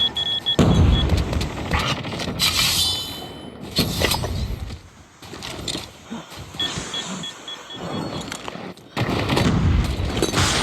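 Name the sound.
SMRS gunfire in a video game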